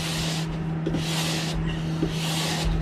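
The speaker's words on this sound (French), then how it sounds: "quand je commence à passer la brosse, je sens un peu plus de résistance" A brush scrubbing along a waxed ski base in long repeated strokes, a loud, close, steady rasping swish that rises and falls with each pass.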